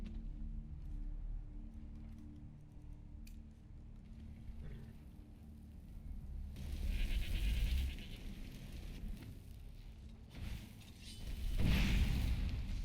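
Goats bleat faintly in the video game Skyrim, on the outskirts of Solitude, with low rumbles and a louder burst of noise toward the end.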